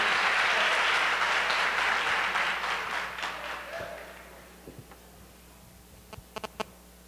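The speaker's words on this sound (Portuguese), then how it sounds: "forte salva de palmas nessa noite" Loud applause from a church congregation at an evening service, strong at first and gradually fading over several seconds into scattered last claps.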